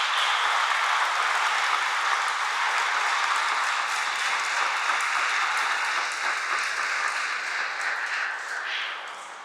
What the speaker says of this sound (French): je vous prie de donner une bonne main d'applaudissement à la chorale Notre-Dame de l'Espérance